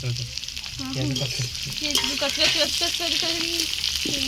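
Onions fry in a hot pan with a steady, close sizzle and crackle that runs throughout, while a quiet voice speaks over the cooking.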